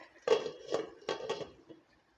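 Several light metallic clinks and knocks as a lid goes onto a pot of Kottayam-style fish curry, four or five quick taps close by, fairly faint and otherwise quiet.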